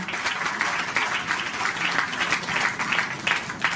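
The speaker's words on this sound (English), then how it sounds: "Can we have a big round of applause for this wonderful year?" Steady applause from a sizeable crowd, continuous and full throughout, with no voices standing out.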